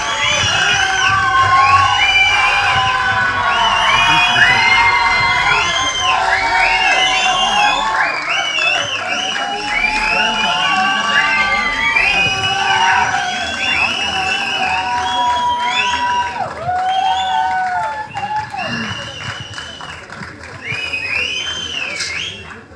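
An audience at a film teaser launch event cheers, whoops and shouts in a loud, lively burst, with a voice on a microphone carrying over the crowd noise.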